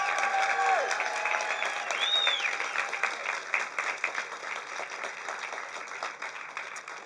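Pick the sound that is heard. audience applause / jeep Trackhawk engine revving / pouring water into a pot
audience applause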